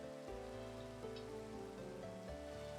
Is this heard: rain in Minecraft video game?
yes